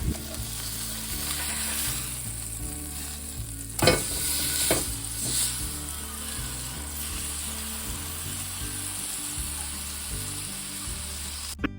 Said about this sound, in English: we're going to stick that into a hot pan for 2 to 3 minutes on each side